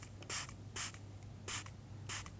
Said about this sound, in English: Give it a very quick spray of water once again